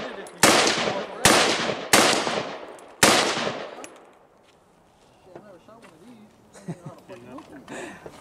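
A rifle fires four sharp, loud gunshots at a timed shooting drill, spaced about a second apart, each with a decaying echo, followed by quieter rustling and movement.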